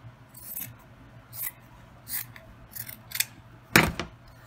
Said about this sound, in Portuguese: Vou até cortar aqui um pedaço que vai ficar largo.